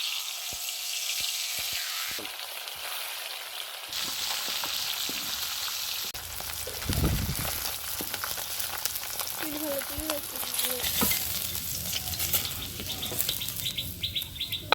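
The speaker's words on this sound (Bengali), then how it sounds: "এবার মাছগুলো ভেজে নেব।" Fish frying in oil in a village kitchen, a steady broadband sizzle running throughout, with birds chirping in the background and occasional stirring or clatter.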